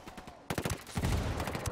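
Rapid gunfire in Ghost Recon Wildlands, a dense burst of close, loud automatic shots that starts after a brief lull and keeps hammering in quick succession.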